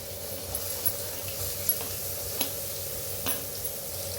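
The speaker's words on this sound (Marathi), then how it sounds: "आता गॅसवर ठेवल्या कढाई कढाईत आपल्यावर तेल वतलंय आता त्याच्यात टाकूया कांदा" Onion frying in hot oil in a kadhai for a village-style chicken dish, a steady close sizzle and hiss with a few light stirring taps, no voices.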